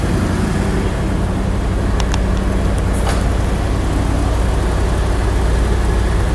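A 1973 Chevrolet Corvette with its original exhaust idles steadily, a low, continuous engine rumble that is fairly mild rather than loud, with a couple of brief clicks partway through.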